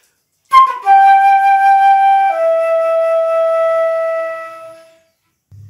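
Wind instruments play a phrase from Shostakovich's Jazz Suite Waltz No. 2: after a bright attack, two long held notes step downward and fade out smoothly, clear and alone.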